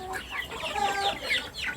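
Fighting-breed chickens cluck and squawk close by, with a few short overlapping calls and no talking.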